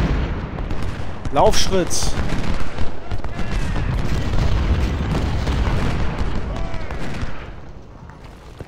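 Cannon artillery booms and scattered musket fire from a Civil War battle at Chickamauga in Ultimate General, rumbling continuously at mid-distance, with a brief shouted command in German.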